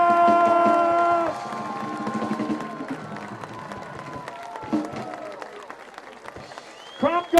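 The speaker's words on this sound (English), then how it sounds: "Crowd goes wild." A beach crowd at the 2014 National Sandcastle Competition on Revere Beach claps and cheers for the winner. A sustained tonal sound opens the clip, then scattered applause and whoops follow, mixed with voices.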